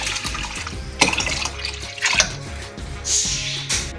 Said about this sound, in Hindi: अब मैं इसको थोड़ा सा इसके अंदर पानी शामिल करूँगी।